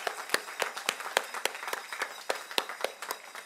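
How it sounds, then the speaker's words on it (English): Convocation audience applauding, a scattered crowd clapping steadily with sharp individual claps standing out, fairly close and moderately loud, no talk over it. "We'll give you a round of applause."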